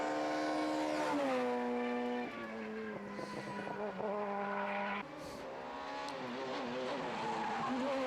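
A four-wheel-drive rally car races along a European Rally Championship stage, its engine note climbing and dropping through gear changes. Loud and close, with brief tyre skids and a short break in the middle.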